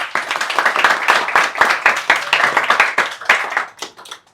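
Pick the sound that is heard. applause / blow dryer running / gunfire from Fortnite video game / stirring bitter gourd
applause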